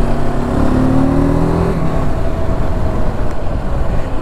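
A TVS Apache RTR 310 motorcycle during a braking test on the road, heard as a steady engine drone that falls in pitch as the bike slows, with wind and road noise throughout.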